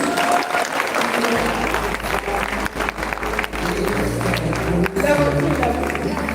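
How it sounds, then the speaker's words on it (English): A school audience applauds, thick and continuous clapping with crowd noise and low musical tones entering partway through, loud and close throughout. "Round of applause, please."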